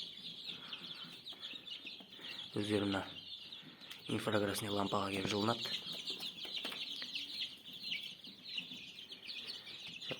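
A brood of chicks about five days old, hatched in an old incubator and gathered under an infrared heat lamp, cheeps in a constant high chorus while someone speaks over it.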